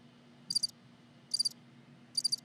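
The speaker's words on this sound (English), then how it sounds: "Oh, that's crickets." Crickets chirp in three short, evenly spaced bursts, each a quick rapid trill, over a faint steady low hum with no other sounds.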